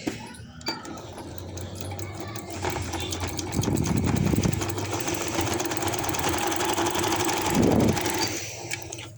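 A domestic sewing machine top-stitches joint lace onto fabric with a steady, fast mechanical whirr that runs the whole time. Its pitch rises briefly in two spots, and it sits close and moderately loud with no one speaking.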